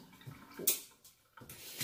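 A touch-operated kitchen tap switching on and off at night, with short bursts of running water that start and stop abruptly, separated by near silence.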